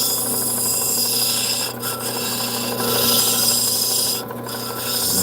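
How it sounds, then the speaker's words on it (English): Bloodstone being ground on an 80 grit lapidary wheel makes a steady, close, continuous rasping hiss that holds at an even level with only a couple of brief dips. "I did not expect to spend this much time on the 80 grit wheel."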